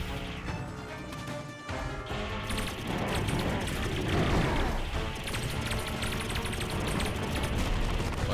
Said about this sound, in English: Like here, just gonna shoot a bunch of rocks.